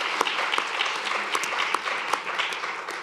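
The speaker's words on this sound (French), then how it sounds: "Applaudissements." Steady applause from a conference audience, many hands clapping at an even density with a few sharper claps standing out, moderately distant and without talk over it.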